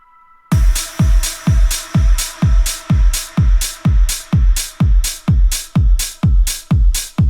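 A simple, groovy electronic drum pattern from a remix thumps along with punchy, evenly spaced kicks and crisp hits, loud and steady in a repeating loop.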